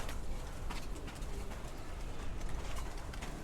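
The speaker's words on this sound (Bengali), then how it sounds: "আপনারা তো দেখলেনই কবুতরগুলো" Pigeons in a loft cooing in soft, low murmurs over steady background noise, with no one speaking.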